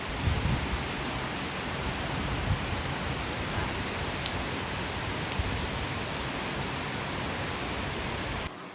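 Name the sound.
heavy rain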